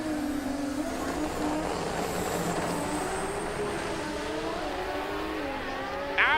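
A Mazda RX-7 and a Toyota Celica drag racing at a World Cup Finals eliminations event make a sustained engine drone with rising and shifting revs, somewhat distant, with an announcer's voice partly audible.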